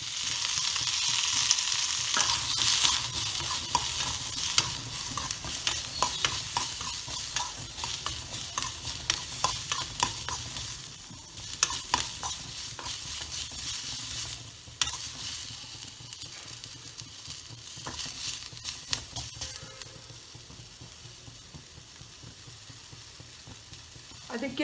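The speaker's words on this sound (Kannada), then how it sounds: "ಈರುಳ್ಳಿನ ಫ್ರೈ ಮಾಡಬೇಕು. ಒಂದು ಅರ್ಧ ಸ್ಪೂನಷ್ಟು ಎಣ್ಣೆ ಹಾಕ್ಕೊಳ್ಳಿ." Onions fry in about half a spoon of oil in a pan for an avarebele lentil saaru. A steady close sizzle runs throughout, broken by scraping stirs that fade gradually toward the end.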